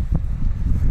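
Wind gusting straight into the microphone in an open farm field, a loud low rumbling buffet lasting about a second with no speech.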